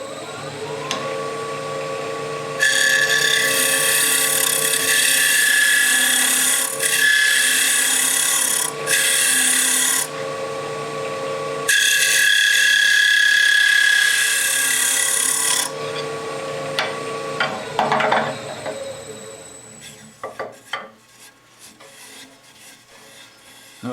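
Wood lathe spinning an end-grain goblet through a final cleanup pass, a steady whirring hum broken by long bursts of loud hissing tool scraping, then the motor winds down with scattered knocks and clatters.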